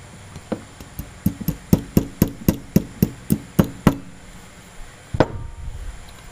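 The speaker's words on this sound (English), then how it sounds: "line up your float, tap that retaining pin back in" Light metal taps drive the float retaining pin back into the carburetor of a 2004 Honda Recon 250 ES; about a dozen crisp, evenly spaced clicks come close and clear, then a single louder knock after a short pause.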